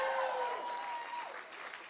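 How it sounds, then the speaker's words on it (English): Audience applause for the author Walter Dean Myers, a steady, fairly faint wash of clapping that continues throughout, with a bit of crowd noise and no clear speech. "You can applaud multiple times for Walter."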